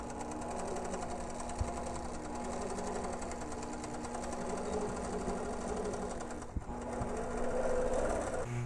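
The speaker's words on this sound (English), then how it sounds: "Engage the channel lock and stitch." An APQS longarm quilting machine hums steadily while stitching binding onto a quilt, a constant close mechanical whir with a faint steady tone and a brief click partway through.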